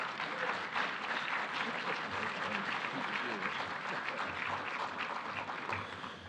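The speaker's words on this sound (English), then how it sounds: "Let's give him a nice round of applause, will you please?" A conference audience gives a round of applause for a speaker, dense continuous clapping filling the room, with a voice faintly under it.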